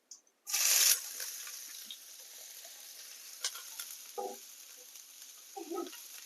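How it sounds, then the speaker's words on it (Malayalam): Chopped garlic hitting hot oil in a pan, a sharp burst of sizzle at the start that settles into a faint, steady hiss, with a few soft clinks and scrapes of stirring. "ഇനി നമ്മൾ കട്ട് ചെയ്ത് വെച്ച വെല്ലുള്ളിയാണ് ഇട്ട് കൊടുക്കുന്നത്"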